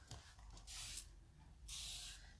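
A hand spray bottle gives two quick, close spritzes, each a short, bright hiss about a second long, in a quiet room with no talking.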